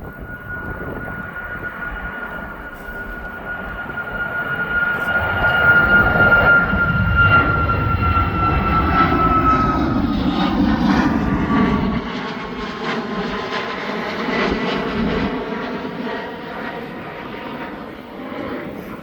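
An Ethiopian airliner taxiing at East Midlands Airport, a loud sustained jet engine roar with a steady high whine that swells and rumbles on without talk.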